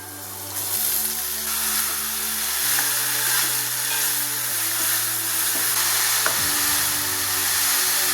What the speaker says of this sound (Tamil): இந்த பெரிய வெங்காயம் போட்டு இப்படி வதங்கினா போதும்